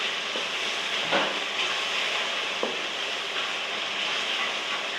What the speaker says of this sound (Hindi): तकरीबन 5 मिनट में मसाला भून लूँगी